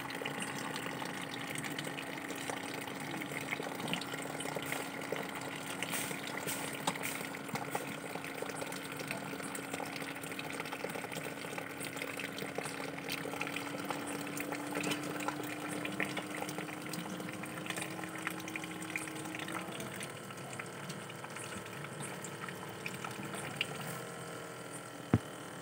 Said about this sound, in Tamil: தண்ணி வந்துச்சுன்னா மோட்டர் வந்து சத்தம் போட ஆரம்பிச்சிடும்.